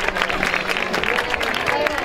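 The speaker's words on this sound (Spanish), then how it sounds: "Un aplauso." An audience applauds at a Book Day celebration in Guardamar after gifts are handed to young library readers, a continuous wash of clapping mixed with crowd chatter and children's voices, steady throughout.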